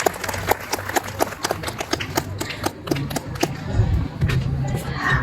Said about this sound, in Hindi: एक बार और तालियां हो जाएं, जोरदार तालियां हो जाएं इनके लिए।